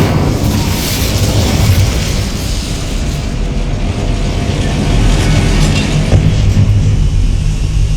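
Incendio fire spell cast in the game Hogwarts Legacy, a loud, dense, roaring rush of flame-like noise that holds steady throughout at close range.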